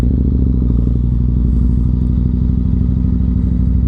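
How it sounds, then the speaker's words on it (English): A Yamaha MT-01 with a massive V-twin engine rumbles steadily while being ridden, a loud, deep, continuous throbbing pulse heard close up with no pauses or speech. "I love the feel of this massive V-twin throbbing away."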